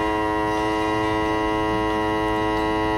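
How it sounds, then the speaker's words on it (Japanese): A vacuum packing machine heat-sealing a plastic bag of ham gives off a steady, even electrical hum with a buzzing harmonic tone that holds unchanged throughout, with no voices. "はい、こちらも熱線シール中ですね。"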